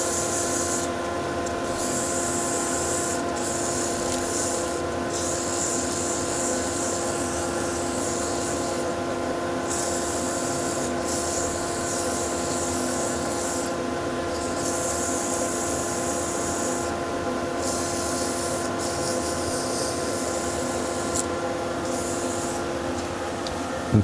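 A wooden pin-striped bowl hand sanded with 320 grit sandpaper, giving a continuous rhythmic rubbing hiss broken by short pauses, close and steady with no talk.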